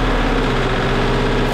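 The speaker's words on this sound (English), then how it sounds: "We're going to rev them to 2000 RPM." A car engine held at about 2000 RPM while running without oil gives a loud, steady, continuous drone that stays close throughout the short clip.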